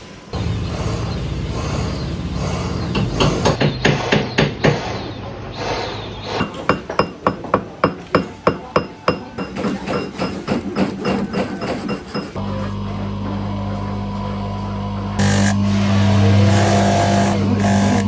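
An apprentice blacksmith hammers a small metal pendant in Indonesia, a run of sharp ringing metallic taps in a quick even burst, set against engine noise and background clatter.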